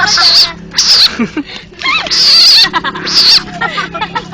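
Loud, raspy frog croaks repeat in bursts close by, roughly one every second, with chirpy harmonic calls and some background voices.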